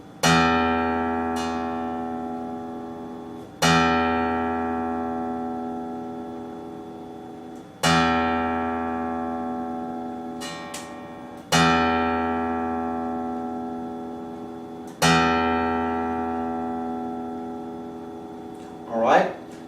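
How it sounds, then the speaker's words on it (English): A guitar's low E sixth string is plucked five times as a tuning reference, each note ringing out clearly and fading slowly over several seconds before the next pluck, with no talking over it. "as you hear the sound of my string. First of all, the E 6th string."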